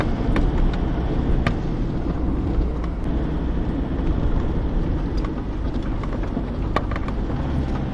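An old Datsun drives across the sand dunes of the Simpson Desert, its engine giving a steady, close, low rumble with bumps and rattles throughout and no voices.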